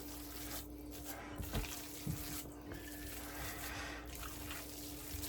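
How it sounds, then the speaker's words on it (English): A kitchen tap runs steadily while hands are washed under it during rice ball preparation, a continuous hiss of water with a few soft splashes and clunks at the sink. "I'm just going to wash my hands."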